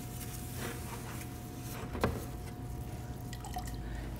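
Water trickles steadily from a pottery wheel into a bucket, with one distinct splash-like drip partway through.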